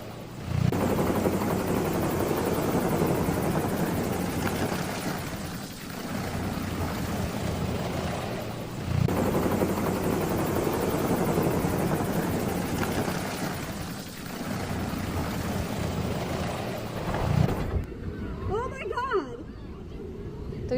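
A helicopter spins in the air before crash-landing in Los Angeles, making a loud throbbing rotor roar that swells and fades in waves while voices talk over it, then cuts off abruptly near the end.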